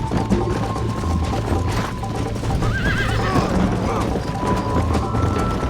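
A horse in the video game Red Dead Redemption whinnies in a rising, wavering call over the steady clip-clop of its hooves, with a constant game ambience underneath.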